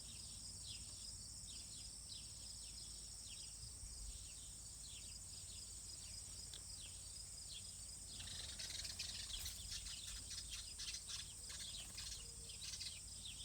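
Birds call outdoors around a compost heap with a cockatoo nearby, faint chirps over a steady insect-like drone, growing busier and louder toward the end.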